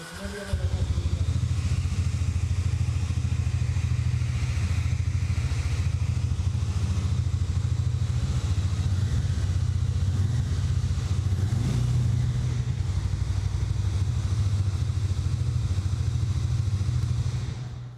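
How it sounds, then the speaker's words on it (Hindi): A 2025 Hero Mavrick 440 motorcycle engine idles and rumbles steadily and loudly for the whole stretch, a deep throbbing exhaust note with some mechanical clatter. "दूसरा इसका जो मॉडल है उसमें आपको इसका एग्जॉस्ट नोट सुनाते हैं"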